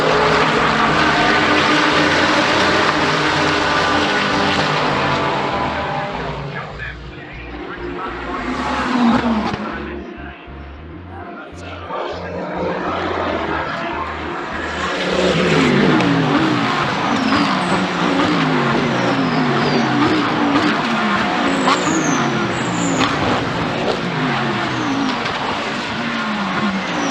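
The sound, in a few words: GT3 race cars accelerating at race start, Brands Hatch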